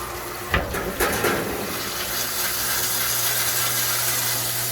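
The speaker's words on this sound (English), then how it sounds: "Now you got water coming out here." A few knocks and clunks, then water rushes steadily from a tap in a cabin in a constant, hissing flow as air clears from the line.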